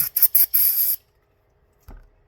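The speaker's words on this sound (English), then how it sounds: "put a little brake clean on it" Brake cleaner sprays onto a rag during a radio-controlled car build: three quick loud hisses followed by one longer spray, then quiet and a faint soft thud.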